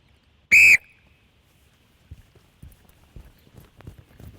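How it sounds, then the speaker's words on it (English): A rugby referee blows one short, sharp whistle blast to start a kick-off, loud and close, followed by soft footsteps and faint movement on the field. "Clive, wait for the whistle, please."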